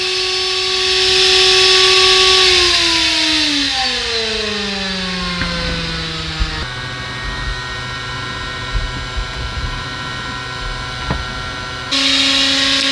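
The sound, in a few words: small electric motor running from a DC power supply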